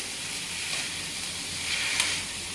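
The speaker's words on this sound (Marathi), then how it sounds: "हिरवे मोड आलेले मूग टाकते हे बघा आणि ते मूग पण छान परतून घ्यायचे" Sprouted green moong beans sautéing in a pan, a steady bright sizzle and hiss running throughout, close and even, with a faint stirring scrape near the end.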